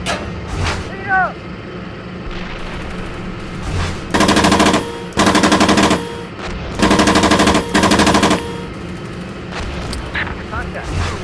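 Bursts of machine gun fire ring out in the Steel Beasts tank simulator video game, four long, loud sustained rattling volleys with short gaps between them, amid battlefield rumble and radio chatter.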